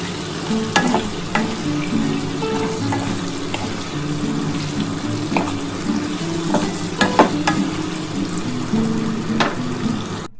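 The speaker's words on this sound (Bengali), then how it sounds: "আমি এই যে হলুদ আর নুন দিয়ে দিয়েছি, এটা ভালো করে ভাজবো।" Pieces of elephant foot yam fry with turmeric and salt in a pan, sizzling steadily up close while a utensil stirs and scrapes, with scattered clinks.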